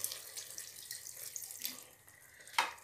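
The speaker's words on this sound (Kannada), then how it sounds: "ನೋಡಿ ಈಗ ಒಂದು ಸ್ವಲ್ಪ ಮಾತ್ರ ನೀರು ಹಾಕೊಳ್ಳಿ" A thin stream of water runs from a tap or jug into chicken biryani marinade for Ambur biryani. The pour is quiet and steady and close by, ending in a brief clink. No one speaks.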